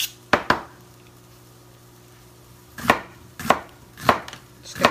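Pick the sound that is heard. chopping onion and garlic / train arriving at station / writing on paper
chopping onion and garlic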